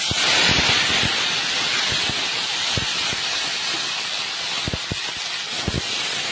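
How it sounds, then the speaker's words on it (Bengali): Okra hits hot oil seasoned with panch phoron and sets off a steady, loud, broadband sizzle that runs throughout, with a few soft knocks from the pan underneath. "তেল গরম হয়ে আছে, পাঁচফোড়ন দিয়েছি, এই ভিন্ডিগুলো দিয়ে দেবো।"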